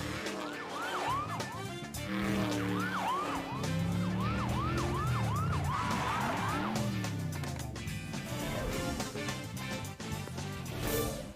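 A police car siren wails in a cartoon car chase, its rising and falling sweeps repeating rapidly over a car engine, loud and close throughout.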